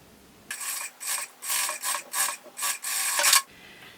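A sewing machine stitching fabric for a tablet holder runs in about seven short, close, rasping bursts with brief pauses between them, then stops.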